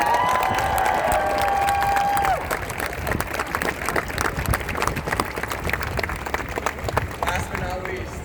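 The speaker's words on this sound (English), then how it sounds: "Give it a round of applause for all of them." Outdoor crowd clapping and cheering at a Stop Asian Hate rally in a New York City park, lively and scattered, following a brief amplified voice, with children's shouts mixed in.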